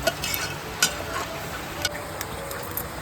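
Chicken masala sukka sizzles in a pan on a wood-fired village stove as a little water is added, a quiet steady hiss dotted with small ticks and clinks, with no talking.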